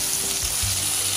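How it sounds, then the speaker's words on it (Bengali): Chopped onion frying in hot oil for shahi haleem gives a loud, dense, continuous sizzle, close and steady over a brief moment, without talking. "এটা গরম হয়ে গেছে, এখন আমি 1 কাপ পেঁয়াজ কুচি দিয়ে দিলাম।"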